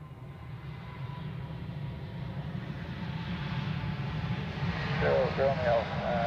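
An Iberia airliner from Madrid lands on runway 28 at Zurich Airport, a steady low jet roar that grows slowly louder, with a faint whine toward the end.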